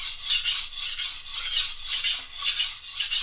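Steady rasping strokes of a chef's knife with a broken tip being sharpened by hand, a rhythmic back-and-forth scrape repeating about every third of a second, close and fairly loud with no talk.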